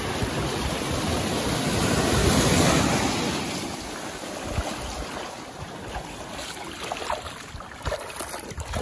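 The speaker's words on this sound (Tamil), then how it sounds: "இப்போ காற்று அடிக்க ஆரம்பிச்சு." Wind gusting over a sea shore as waves roll in and break, a steady loud rushing wash with wind buffeting the microphone, swelling in the middle and then easing into choppier surf, with no voices.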